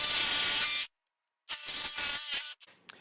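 Power saw with a coarse fast-cutting bit slicing through wood: two bursts of loud, bright, hissing cutting noise separated by a silent gap, the second trailing off into scattered scraping.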